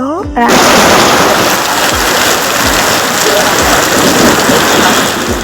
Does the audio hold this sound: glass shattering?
no